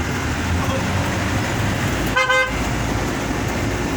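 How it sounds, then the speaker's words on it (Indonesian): A single short car horn honk sounds over steady road and engine noise during a drive from Dusun Hae to Poso, Indonesia. "pencet klakson meskipun bukan tikungan"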